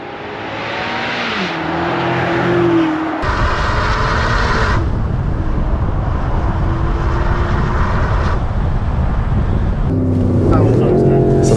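Loud, fruity exhaust note from a Range Rover Sport SV with a QuickSilver sport exhaust, valve open: a steady near drone with shifting pitch, ending in a sharper surge of revs.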